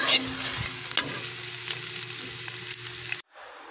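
Eggs sizzle and fry in a pan while a utensil stirs and scrapes them into a scramble, a close, continuous crackle with light clinks that cuts off abruptly at the end.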